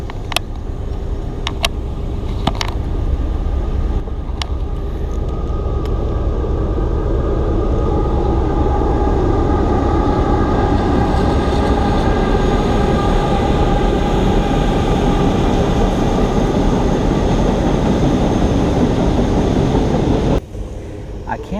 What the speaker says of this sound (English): Here comes your train.